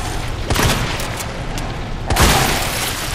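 Gunshots fired at a monster's eyeball in Resident Evil 2 Remake, two heavy booming shots about a second and a half apart over loud, dense game noise.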